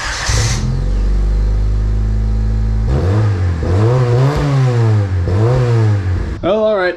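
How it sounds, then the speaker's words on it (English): A Nissan 240SX engine cranks and catches, then revs up and down several times, loud and close, ending with a rougher sputter. "let's lower the car down and start it up"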